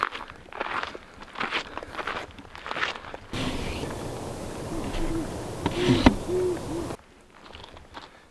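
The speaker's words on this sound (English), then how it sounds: "I think I also hear an owl." A distant owl hoots softly a few times amid outdoor rustling and crunching footsteps at Castle Rock, Lake Havasu City, with brief talking before and after.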